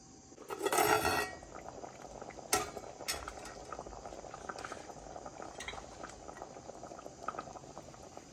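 Fish curry simmers in a covered pot, a soft continuous bubbling heard close but faint, opened by a clattering lid and followed by a few light metallic clinks.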